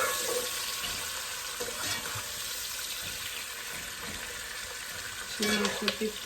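Spices frying in hot oil for a goat meat curry give a steady, dense sizzle with light stirring, and a few louder clatters near the end; no one speaks.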